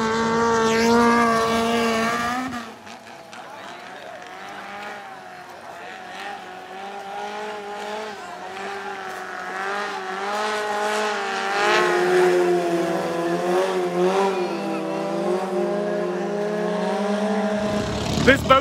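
A Toyota four-cylinder engine with individual throttle bodies and tubular headers powers a longtail riverboat at a Bangkok drag race, its loud, harmonic-rich drone rising and falling in pitch as the throttle changes, sustained and close after an initial burst.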